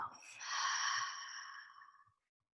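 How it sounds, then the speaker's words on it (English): A single audible exhale through the mouth during a yin yoga breathing exercise, a soft breathy rush swelling then fading over about two seconds, close and alone. "Exhale through the mouth."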